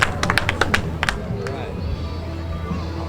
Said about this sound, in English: Everybody claps. It's awesome stuff.